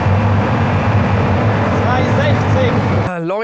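A Pagani Huayra BC hypercar accelerating at high speed, its engine drone steady and loud with turbo whistle rising briefly, then the roar cuts off sharply near the end.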